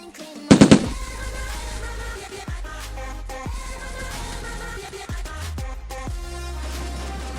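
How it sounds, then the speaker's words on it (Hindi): Gunfire in a battle royale ranked match, a loud rapid burst of shots early on followed by scattered sharper reports over a steady game soundtrack. "यहाँ पे मैं एक बंदे को देखता हूँ जो फायरिंग कर रहा था।"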